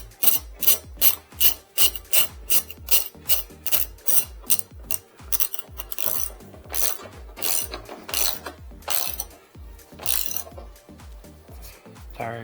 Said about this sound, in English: We will take our socket and cinch this down.